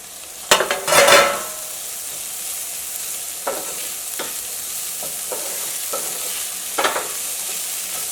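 Capsicum for vegetable fried rice stir-fried in a hot pan: a soft, steady sizzle broken by several sharp scrapes and clatters of a spoon tossing the vegetables, close and without talk.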